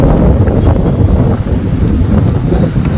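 Steady, loud wind buffeting the microphone, a continuous low rumbling roar with gusty fluctuations throughout and no voices.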